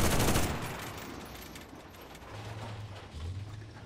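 Shooting in the World War II video game Enlisted, set in a Normandy village battle, opens with a loud burst of gunfire that fades into a rumbling tank engine drone and distant battle noise.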